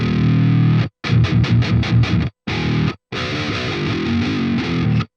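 Heavy distorted electric guitar pitched down six semitones and cleaned up with EQ: a sustained chord, then a rapid burst of tight palm-muted chugs, a brief stab, and another long ringing chord, loud and close.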